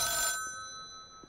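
A telephone in the horror game The Town of Light gives a loud electronic ring that stops abruptly, leaving a faint sustained tone and quiet background.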